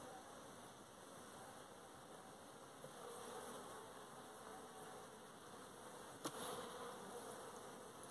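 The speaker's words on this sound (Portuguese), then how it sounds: "Tem muita abelha aqui." Dense, steady buzzing of many honey bees around a hive full of honey, a continuous drone close by, faint and unbroken for the whole stretch with one brief knock near the end, no talking.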